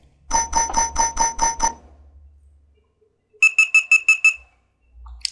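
Electronic beep sound effects: a run of six rapid, evenly spaced beeps, a pause, then a second run of six higher, sharper beeps, loud and close.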